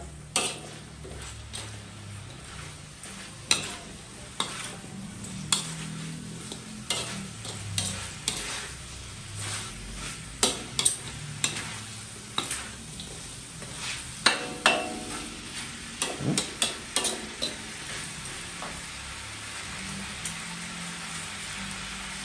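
Shrimp and chicken simmer in coconut milk for Filipino ginataang bulanglang while a spoon stirs the pot, giving a long run of irregular knocks and taps over a soft bubbling sizzle, close by with no talk.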